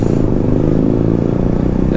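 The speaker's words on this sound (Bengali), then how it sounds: "এত শব্দ করে বাইক চালায় লাভ কি ভাই?" A motorcycle engine roars loudly close by, a rough, throbbing drone with slight rises in pitch as it revs, steady throughout with no voices.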